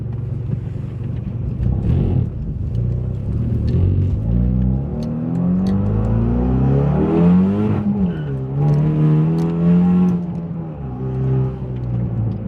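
A Kia Forte Koup SX engine revs hard and climbs through the gears, loud and close, with rising pitch sweeps and a rough rumbling exhaust that needs fixing.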